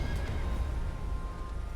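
A horse whinnies in the Elden Ring video game, a faint neigh over steady low rumble and ambient game noise with hoof clatter.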